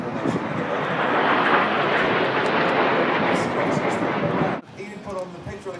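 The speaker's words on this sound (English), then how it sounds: "Put on the patriotic red, white and blue smoke as they now run past us in about a 3G turn, completing the slalom." Red Arrows jet aircraft sweep past in a tight turn trailing smoke at the Farnborough Air Show, a loud, broad roar that holds steady for over four seconds, then cuts away sharply to a quieter rumble.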